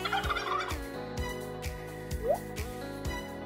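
A turkey gobbles in repeated rapid bursts, a rattling call that recurs several times over a steady background of tones.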